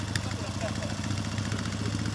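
Old 4x4 K-750 motorcycle engine idling at a training ground, a steady rhythmic low chugging pulse heard close and continuous beneath ongoing talk.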